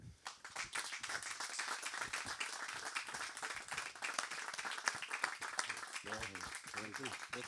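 Audience applause greets a guest at a Portuguese political interview event tied to the Benfica elections, dense clapping filling the room steadily for several seconds, with a voice breaking in near the end.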